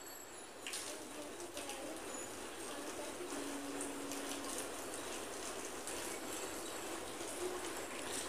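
Water runs and splashes steadily at ablution while the face is washed, a continuous close trickling stream with a faint higher tone partway through, no talk.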